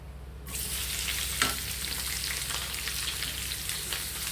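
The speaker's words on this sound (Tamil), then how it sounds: "நம்ம வெங்காயம், கருவேப்பிலை, பச்சை மிளகாய் வணக்கினா போதும்." Onion, curry leaves and green chili sautéing in a pan for an egg, onion and tomato gravy, a sizzle that jumps in suddenly after a brief quiet start, then holds steady and close with a light crackle.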